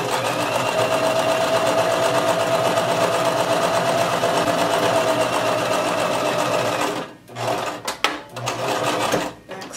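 A domestic sewing machine runs steadily and loudly while stitching a coat dress, then stops and starts in short bursts near the end for a pivot and back stitch.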